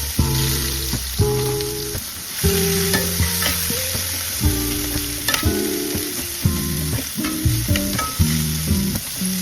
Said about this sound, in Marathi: कांदा कापलेला आहे, तो कांदा मी फोडणीला घालते.